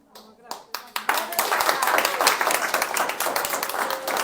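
A church congregation clapping, a few scattered claps at first swelling into steady, dense applause close by, with voices mixed in.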